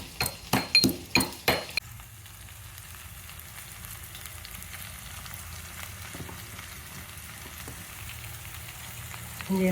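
Okra (ladies finger) frying in a pan, opening with several sharp clinks of a utensil against the pan, then a soft steady sizzle that carries on quietly and swells slightly at the very end.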